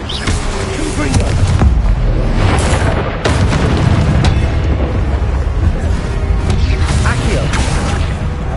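A Confringo blasting spell explodes in a Harry Potter video game, a heavy boom followed by rumbling debris and layered bursts, with a voice shouting the spell over the blasts.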